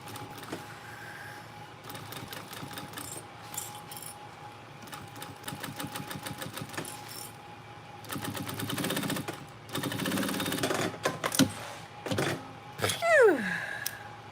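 A sewing machine stitches a backpack seam in several short, rhythmic runs of rapid needle clatter separated by pauses, close and fairly quiet, with some handling noise between bursts.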